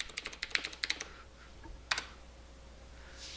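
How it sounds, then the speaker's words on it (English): Computer keyboard typing as an email and password are entered to log in: a quick run of light, close key clicks for about a second, a pause, then a short burst of further keystrokes, with no talking. "Go ahead and type in your email, type in your password."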